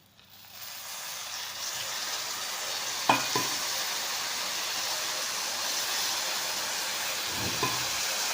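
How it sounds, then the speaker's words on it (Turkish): Syrup (şerbet) poured over a freshly baked, still-hot Turkish holiday dessert with a crispy layered pastry, giving a steady hiss and sizzle throughout, with a couple of faint clinks near the start and end. "Şimdi hemen böyle şerbetimi ilave ediyorum."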